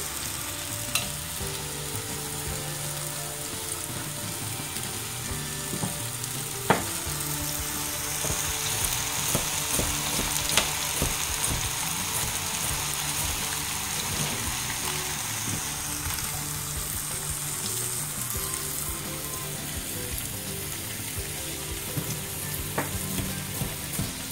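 Chopped vegetables for a spaghetti squash sauce frying in a pan, a long steady sizzle with clicking, ticking stirs and occasional sharp spatula taps, close and even throughout with no speech.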